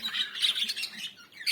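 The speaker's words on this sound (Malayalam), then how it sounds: "ഈ തത്തകളെ കാണാൻ നല്ല ഭംഗിയുണ്ട്." Parrots close by let out harsh, raspy squawks in quick repeated bursts, shrill and clear, with no voices around them.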